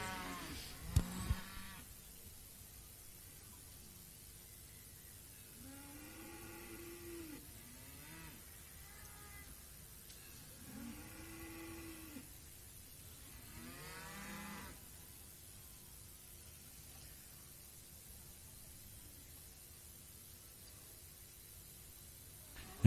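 Beef cattle females, Santa Gertrudis among the breeds, stand in the judging ring at the Ekka show in Brisbane, giving several low, drawn-out moos spaced across a quiet arena background, with a brief bump of handling noise at the start.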